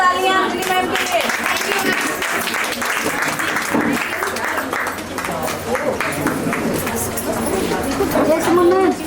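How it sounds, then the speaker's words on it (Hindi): Audience applause at a franchise launch event, clapping mixed with crowd noise and overlapping voices and music-like tones, loud and fairly close throughout. "जोरदार तालियां अंजलि मैम के लिए"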